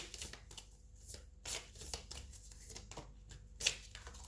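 A tarot card is drawn from the deck with soft, quiet shuffling and rustling of cards in short irregular bursts, ending with a crisp flick.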